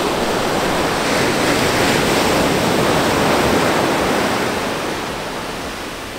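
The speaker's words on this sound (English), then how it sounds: "we're gonna go get the close-up of the waves that we're gonna cut just after this" Ocean waves move in a broad, continuous wash of surf that swells to a peak midway, then gradually recedes and fades toward the end, with no speech.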